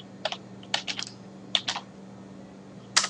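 Keys on a computer keyboard are tapped in short, light clusters with gaps between them as a command is entered, heard close against a low steady hum.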